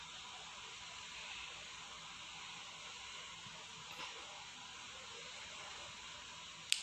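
Sliced okra and onions frying in a pan until light brown, a steady, even hiss and sizzle held at a low level, close, with a faint clink near the end.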